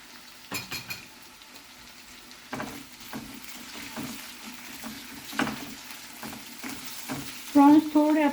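Prawns sizzle steadily in a hot pan for a Saraswat prawn rice, while a spoon stirs them with intermittent scraping and clinking against the metal, close and moderately loud, with no speech.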